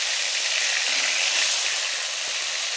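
Whole fish sizzling and crackling in a generous amount of hot oil in a wok, part of a Bengali cauliflower-and-fish curry. The fry hiss is steady, loud and close, spans the full clip and is heard without any talking.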